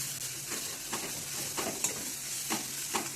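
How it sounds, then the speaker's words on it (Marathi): A ginger, garlic, cumin and coriander paste frying in oil for a moong dal vadi curry, a soft sizzle broken by rhythmic scrapes of stirring. "आले, लसूण, जिरे आणि कोथिंबीरीची जी पेस्ट केली होती ती इथे टाकून घ्यायचे आहे आणि हिचाही कच्चेपणा जाईपर्यंत ही तेलात आपल्याला चांगली परतून घ्यायची आहे।"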